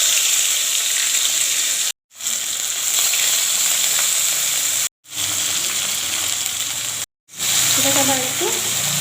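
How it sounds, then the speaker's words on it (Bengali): Chopped onions sizzle in hot oil in a pan with garam masala and bay leaves for a chicken potato curry, a loud, steady hiss broken by a few brief cuts. "এবার এতে আমি পেঁয়াজ কুচিগুলো দিয়ে দেব।"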